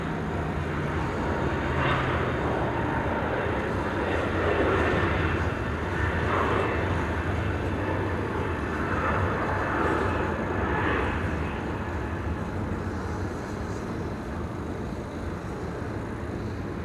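Ex-Wamos airliner flying for TUI climbing away after takeoff at Amsterdam Schiphol, a strong, sustained jet roar with rising and falling swells as it departs, moderately distant, with no talking.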